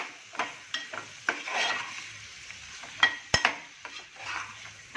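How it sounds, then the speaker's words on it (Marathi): Dried salted kota fish sautéed in a pan: a steady sizzle under repeated spatula scrapes and stirs, with a few sharp metallic clinks against the pan and no voices. "आता यात आपण आपलं खारं टाकून घेणार आहोत कोत्या माशाचं खारं व्यवस्थित परतून घ्यायचं आहे"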